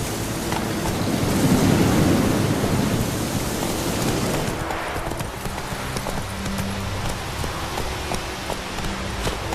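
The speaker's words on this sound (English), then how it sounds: "Run, Roach." A horse gallops in The Witcher 3 video game, its hooves clip-clopping loudly and steadily through a rumbling, rain-like ambient wash that fades partway through.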